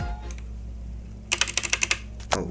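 Keys on a SteelSeries Apex M500 mechanical keyboard clatter in a quick burst of about eight close clicks, then one more key strike, over a steady low room hum.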